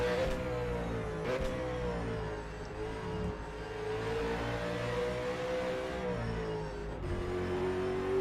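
A Holden V8 Supercar engine in the rFactor 2 racing game drones loud and steady, with its pitch rising and then dropping sharply at several gear changes, alone and continuous throughout.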